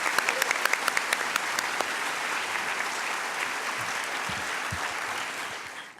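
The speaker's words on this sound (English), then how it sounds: "Can we all please give them a huge round of applause?" Large audience applauding at a university graduation ceremony, a few sharp close claps at first merging into sustained dense clapping that fades slightly toward the end.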